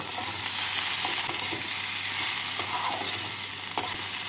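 Chopped medium tomato stirred into frying onions in a pan, giving a steady close sizzle with soft scraping of the spoon throughout.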